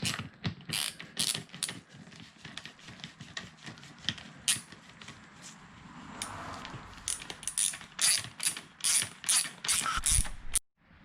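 A ratchet tightens a fork bolt on a TC450 motorcycle during a fork seal change, giving bursts of rapid mechanical clicking and ratcheting strokes close by, with short pauses between pulls.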